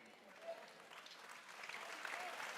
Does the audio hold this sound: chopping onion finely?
no